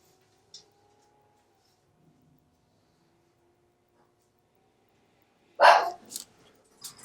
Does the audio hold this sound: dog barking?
yes